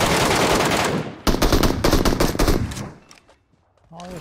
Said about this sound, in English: I heard him shooting.